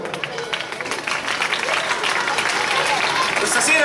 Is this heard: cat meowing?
no